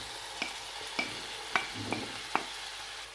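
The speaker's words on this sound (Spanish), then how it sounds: "A continuación ya ponemos la carne molida" Ground meat frying in a pan, a faint sizzle broken by a handful of sharp crackles and pops spaced roughly half a second apart.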